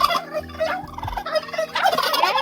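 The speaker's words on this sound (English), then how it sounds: "we also have some turkeys, and they are very excited to see us" Turkeys on a California poultry farm gobble loudly and close by, letting out several rapid bubbling calls in quick succession.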